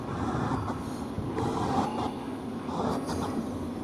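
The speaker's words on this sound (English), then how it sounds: "he should be uncoupling from his train any minute now and yarding his" A freight train rolls slowly into a siding on a cold morning, giving a steady rumbling, rattling drone with faint metallic squeals, moderately close and continuous.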